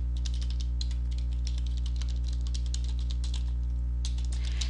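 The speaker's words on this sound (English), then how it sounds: "we're going to type in our web address like we did before" Rapid keystrokes on a computer keyboard as a web address is typed in, a steady run of close, crisp clicks with brief pauses and a constant low hum underneath.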